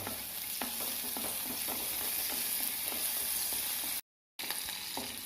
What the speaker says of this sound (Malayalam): അതിലേക്ക് നമുക്ക് ഈ പച്ചമുളക് ഇട്ട് കൊടുക്കാം. ഇതൊന്ന് വഴറ്റിയെടുക്കട്ടെ.